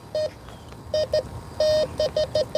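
A Bounty Hunter Tracker metal detector gives a series of short electronic beeps in an uneven rhythm over aluminum, one held tone among them, clear and close.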